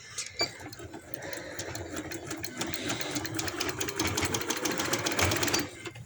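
Sewing machine running steadily while stitching lace onto a round neckline over an earlier seam, a continuous close whirring with fast needle clatter for about six seconds before it stops.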